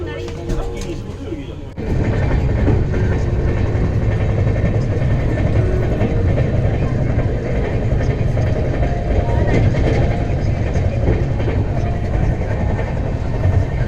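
A double-decker AC express train between Ahmedabad and Vadodara rumbles steadily along the tracks with a constant low roar and rattling clatter, loud and close, starting abruptly after a quieter moment.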